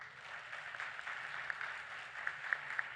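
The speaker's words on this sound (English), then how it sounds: "So please give them a round of applause" Faint, distant applause from the audience at a mayoral forum honoring the candidates, a soft steady patter of many hands with a few sharper individual claps standing out near the end.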